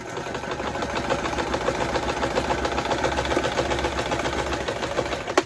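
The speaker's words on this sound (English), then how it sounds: "Now we have that sewn in." A sewing machine runs steadily, stitching fabric for a lap book with a fast, even whirring rhythm that holds close and fairly loud throughout, ending with a brief clunk.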